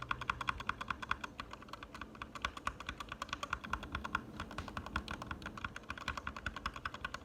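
A lubed Gateron Red mechanical keyboard switch is pressed over and over in a quick, steady run of soft, close clicks and thocks, with no voices.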